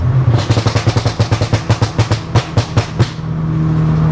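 A 410bhp Audi S3 accelerates hard in second gear, its loud engine note rising while a rapid train of sharp pops and crackles fires about fifteen times, then settles into a steady drone.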